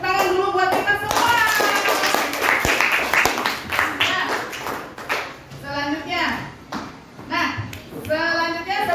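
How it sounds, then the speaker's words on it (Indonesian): A classroom group of children clapping hands together, the claps mixed with lively kids' voices and chatter throughout, fairly loud and close. "Tepuk tangan dulu buat kita semua."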